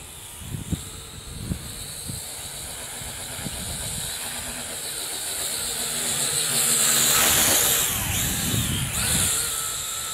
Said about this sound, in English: the old wind is coming up a bit